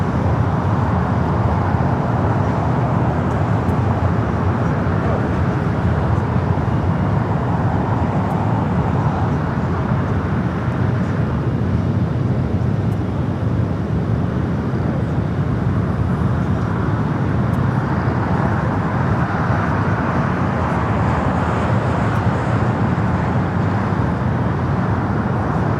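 An Asiana Airbus A380 airliner at LAX produces a continuous, heavy jet rumble and roar that holds loud and steady from start to finish, with no talking.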